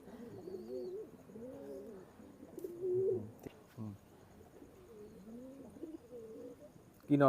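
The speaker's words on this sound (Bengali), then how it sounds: "এটা হচ্ছে কালশিরা কবুতর" Kalshira pigeons coo softly up close, their low rolling calls repeating in short phrases with small pauses, and a brief loud clatter comes at the end.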